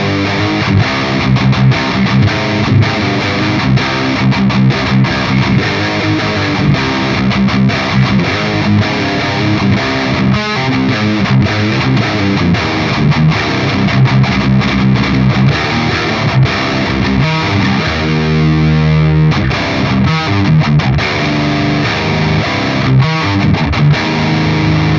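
Heavily distorted metal guitar riffing through a Line 6 POD Express on its 5150 amp model, dense and continuous at full volume for the whole stretch, with chugging palm-muted rhythm and a brief ringing break near the end.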